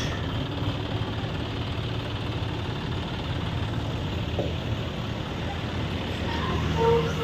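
A John Deere 5045 tractor, being fitted with a Shaktiman 42-blade rotavator, idles with a low, steady rumble at a dealership, with a few faint clanks near the end.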